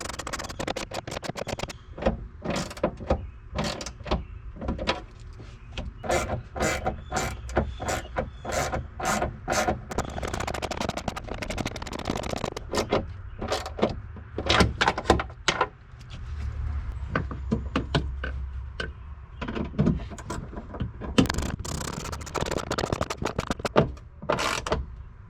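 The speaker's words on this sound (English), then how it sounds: "We're gonna go ahead and tighten down the back bolts first." Rear bumper bolts on a 1999-2004 Ford Mustang are tightened with a hand tool in repeated bursts of close ratcheting clicks and scraping, separated by brief pauses.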